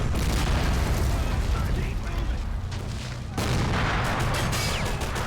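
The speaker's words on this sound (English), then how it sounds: "Still using the cover of the mortars" Mortar fire in the Army Men war game, a dense, continuous rumble of booms and blasts with overlapping distant explosions, loud throughout, with a brief dip before the barrage surges again.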